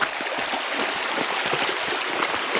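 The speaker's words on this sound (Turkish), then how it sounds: "burası ilk dere yatağı geçişi" Stream flowing over a creek bed at a trail-running route crossing, a steady broadband rush of water with light splashy detail, moderately near and uninterrupted, no voices.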